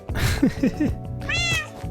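Cat meows from a modded Minecraft game, several short rising mewls in quick succession followed by a higher drawn-out meow, clear and close over a steady game background hum.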